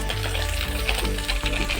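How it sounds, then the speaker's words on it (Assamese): Fish frying in a pan in a home kitchen, a brief, dense sizzle heard close up. "মাছ ভাজি আছে"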